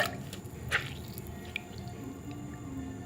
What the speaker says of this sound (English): what happened if you squish it on the water?